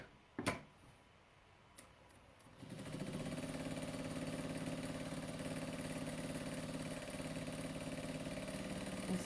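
Sewing machine stitching a fabric project bag, starting after a few soft clicks and then running as a steady, even mechanical whir to the end.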